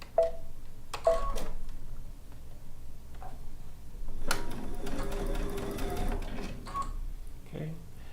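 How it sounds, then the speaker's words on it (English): A sewing machine stitches down one side of a fabric piece in short bursts, its rapid mechanical chatter starting and stopping with brief pauses, close and fairly loud in a home sewing studio. "I'm just going to sew this side down."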